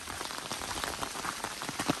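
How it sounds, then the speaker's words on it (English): Steady rain pattering on a hiking trail and camp along the Ozark Trail's Berryman Loop, with dense, continuous drops close by and no voices. "Well, the rain is here."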